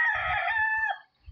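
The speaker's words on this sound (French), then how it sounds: "c'est un coq que vous venez d'entendre là." A rooster crows once, loud and close, with a long drawn-out cock-a-doodle-doo that fades quickly into silence.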